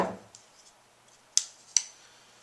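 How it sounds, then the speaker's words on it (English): A hacksaw cuts through duct tape with a few sharp rasping strokes and two crisp tearing snaps, close and fairly quiet with no talk. "With the hacksaw, when you're cutting through the tape,"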